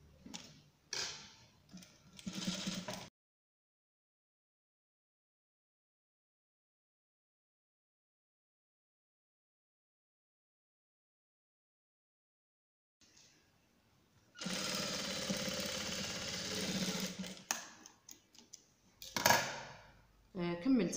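A sewing machine stitching a gandoura dress, running in two short bursts with a long silent gap between them, heard close up and fairly faint.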